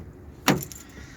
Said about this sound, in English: the central locking is gummed up a bit